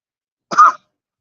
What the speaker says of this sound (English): It's a good cough.